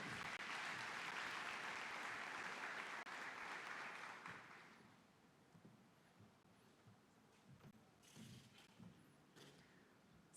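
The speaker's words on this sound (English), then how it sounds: "Please welcome her with a round of applause" Audience applause welcoming co-MC Safia Al-Shehi at an environmental foundation ceremony, steady clapping for about four seconds that fades away, then quiet room noise with a few scattered taps.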